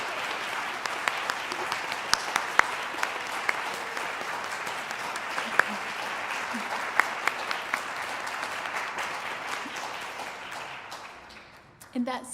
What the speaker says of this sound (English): So please join me in thanking with your applause Betsy and all those who made it possible.